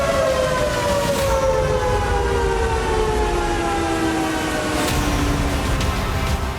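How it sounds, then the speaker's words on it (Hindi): A loud, wailing siren drones on after an attack on a dam on the Ural River, its pitch slowly falling and holding steady for several seconds, alone with no voices. "हमले के बाद सायरन बजने लगा"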